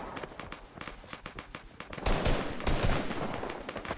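Heavy shotgun fired in a first-person shooter game, a rapid run of sharp blasts and impacts that swells louder and denser in the second half, with no talking.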